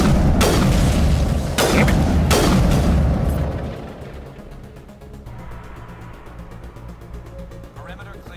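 Gunfire and explosions in the video game Mass Effect, with several loud booming shots and blasts up front, then quieter rapid mechanical rattling; someone briefly speaks over it.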